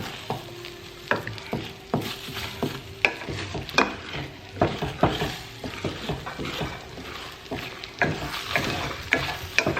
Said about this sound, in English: So now we can stir it a little bit more.